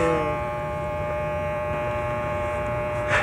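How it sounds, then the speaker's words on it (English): Electric hair clippers run steadily close by, shaving off a head of hair, a continuous bright buzzing drone with a strong harmonic hum that holds for the whole stretch with no talking. "there's only one thing to do is just shave off all your hair."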